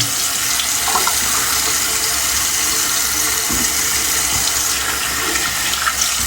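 Tap water runs steadily into a sink while rinsing off after shaving, a loud, close, unbroken rushing splash with faint knocks underneath.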